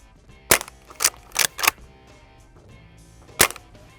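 Airgun shots fired at a target: four sharp cracks in quick, uneven succession, then a pause and one more loud shot, close by with no talk.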